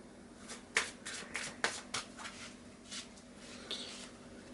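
Tarot cards being shuffled up close, with several crisp riffling snaps and soft shuffling between them, no voices.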